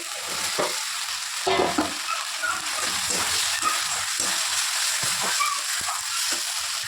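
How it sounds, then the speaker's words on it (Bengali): Potatoes go into a well-fried spice masala in oil, a close, crackling sizzle with repeated scraping and clattering as the pan is stirred, steady throughout. "এবার আলুগুলো দিয়ে দেবো।"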